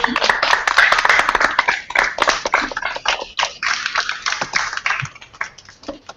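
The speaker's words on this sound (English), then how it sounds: "Give yourself a big clap" Group of people clapping hands together after a team book-guessing game, a close, irregular patter of claps that thins out toward the end, with occasional voices mixed in.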